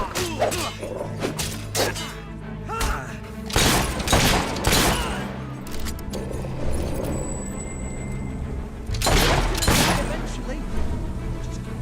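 Rapid bursts of gunfire in Fable 3 crack out in loud volleys with thuds and impacts between them, a fantasy video game battle with continuous background noise.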